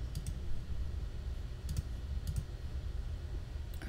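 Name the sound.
computer mouse clicking in Adobe Fuse CC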